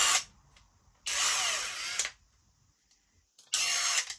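A SKIL cordless impact driver runs in three bursts, a short one at the start, a longer one of about a second and a final burst near the end, each cutting off sharply with near silence between them.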